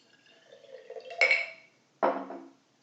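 Water poured into a glass at home as part of an oil-and-water density demonstration gives soft trickling, then two sharper splashing bursts about a second apart, close and fairly quiet with no voices.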